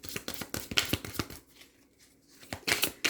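Tarot cards being shuffled by hand in quick bursts of papery riffles and slaps, pausing briefly in the middle before resuming, close and clear with no talking.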